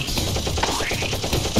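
Rapid automatic gunfire in a Roblox game rattles on continuously, loud and dense, for a moment.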